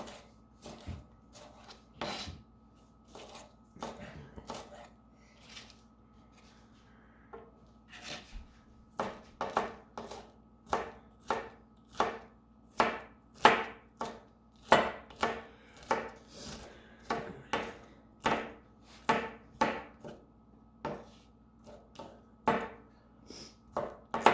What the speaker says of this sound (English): And slice, slice.